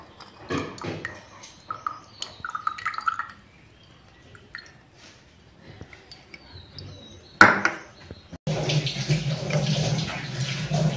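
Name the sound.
homemade rose water strained and poured into a small bottle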